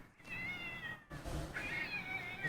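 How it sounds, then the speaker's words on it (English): Two cats fighting, with loud, drawn-out yowls and rising wails that carry on across the whole stretch and hold close and strong. "these cats are going at it"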